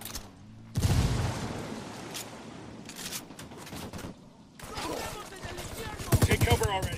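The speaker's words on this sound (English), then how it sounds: "Opening fire." Gunfire in the tactical shooter Ghost Recon Wildlands, with sharp bursts and booming shots coming in clusters over about seven seconds, loudest near the start and end, with talk mixed in.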